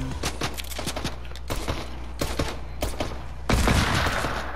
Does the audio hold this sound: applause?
no